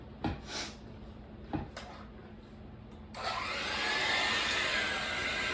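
An electric hand mixer whirs steadily through pineapple cake batter after a couple of knocks, holding a constant, fairly loud motor hum for several seconds.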